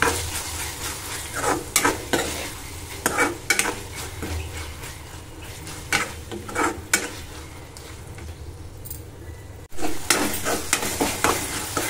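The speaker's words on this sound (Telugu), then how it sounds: "ఇలా ఫ్రై అయిన ఉల్లిపాయలోకి కట్ చేసి పెట్టుకున్న టమాటా ముక్కలు వేసుకొని బాగా కలుపుకొని టమాటా మెత్తబడేంత వరకు బాగా ఫ్రై అవ్వనివ్వాలి" Tomato pieces frying with onions in a pan, a steady close sizzle broken by repeated scraping stirs and clinks of a utensil against the pan throughout.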